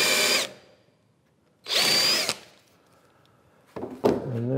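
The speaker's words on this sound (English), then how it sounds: "I would countersink them good and deep." A power drill countersinking screw holes in a wooden workbench, heard as three close, loud bursts of high whirring cut, each lasting about half a second, separated by pauses.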